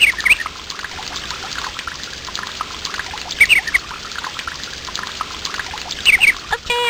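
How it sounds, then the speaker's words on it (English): Free-flowing river water in the 1995 PC game Once Upon A Forest: a steady, pouring rush that carries on without a break, with brief high bird chirps rising above it now and then. "If we clear that stuff out of the river, the water will flow freely again."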